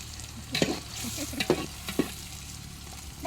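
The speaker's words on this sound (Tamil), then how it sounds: "வெங்காயம் நல்லா வதங்கணும்" Onions sautéing in a pan for homemade chicken biryani: a soft, continuous sizzle with three distinct scraping stir strokes, fairly quiet, no voices.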